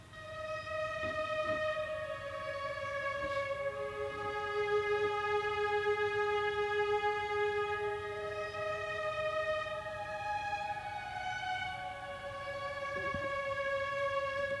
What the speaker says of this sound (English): This is some cellos from BBC Symphonic Orchestra